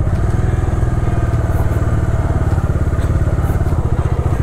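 Motorcycle, not built for off-road use, riding a rough, bad off-road track, with a loud steady engine drone and rattling and bumping throughout.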